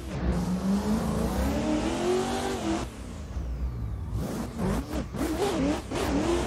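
BMW M4 G82 race car in a wheel-driven racing game launching at Long Beach, engine revving up in rising pitch, briefly dropping at a gear change, then climbing again through further shifts, loud and continuous.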